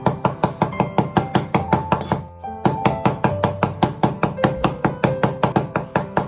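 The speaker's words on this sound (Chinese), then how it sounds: "切碎后再将它剁成肉末" Chopped pork foreleg meat is minced into ground meat with a cleaver, a steady rapid run of close, loud thuds on a board with one brief pause.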